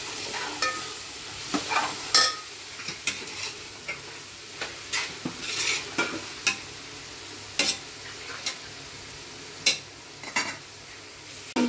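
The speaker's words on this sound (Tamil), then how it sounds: "நல்லா போட்டு வதக்கி விடுங்க." Vegetables sauté in a pan for vegetable biryani under a low continuous sizzle, punctuated by frequent sharp metal spoon scrapes and clinks in an uneven stirring rhythm.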